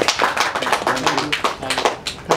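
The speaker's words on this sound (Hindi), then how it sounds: "इसके लिए एक तालियां" Audience applause at an awards and felicitation event, a dense run of many hands clapping steadily and fairly close for a couple of seconds.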